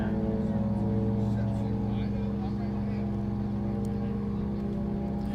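A land speed race car, number 834, runs its engine hard on the dry lake bed at El Mirage, making a steady, loud mechanical drone with dense harmonics that holds throughout, with faint voices underneath.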